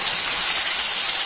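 Broth poured into a pan of coconut fish chorchori gives a loud, close, steady hiss of sizzling liquid throughout.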